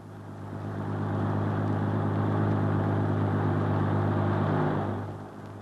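Military vehicle traffic rumbles across a wartime Bailey Bridge in southern France, a steady low engine drone that swells in, holds for several seconds and fades away.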